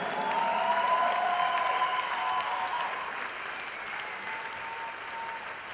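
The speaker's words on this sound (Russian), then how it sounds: "Аплодисменты, друзья!" Sustained audience applause at a ballroom dance championship in a large hall, a dense steady roar of clapping that slowly fades slightly, with brief faint voices.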